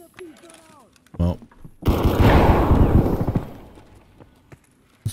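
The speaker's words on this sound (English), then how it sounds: "Do you hear that gunfire?" In a first-person shooter match, a burst of loud, rapid automatic gunfire rattles for about two seconds after a few short shots, with voices talking around it.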